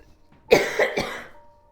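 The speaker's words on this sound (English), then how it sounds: "Just coughing." A short burst of three raspy coughs from one person during a live stream, close and fairly loud, fading out afterward.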